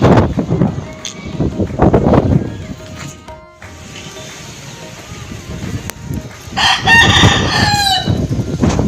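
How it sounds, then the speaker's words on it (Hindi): A rooster on a rooftop crows loudly in a drawn-out cock-a-doodle-doo near the end, after an earlier faint crow, with someone talking over gusty wind and rustling trees after a strong storm. "ये देख सकते हैं हमारा मुर्गा जो कि अब बांगे अजाने देने शुरू कर दिए हैं"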